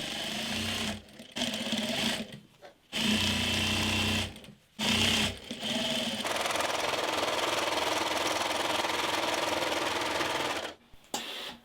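A sewing machine stitching the inner seam of patchwork jeans, running in steady loud bursts separated by brief pauses, then one long continuous run.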